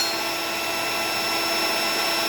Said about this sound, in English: It's a little Coleman pump, for like you use to pump up air mattresses and stuff